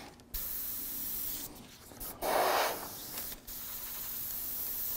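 An airbrush sprays paint through a stencil while painting realistic flames, a soft hiss of air that holds steady, swells briefly louder near the middle, then settles, with faint clicks of handling; no speech.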